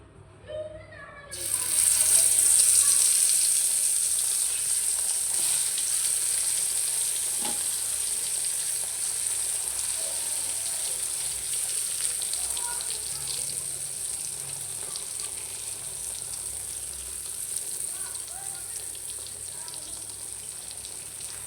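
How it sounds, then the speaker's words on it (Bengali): Steady loud sizzling of eggplant slices frying in hot oil, starting abruptly after a brief quiet moment and continuing evenly throughout. "তো এই যে আমার তেল গরম হয়ে গেছে এখন দিয়ে দিব বেগুন"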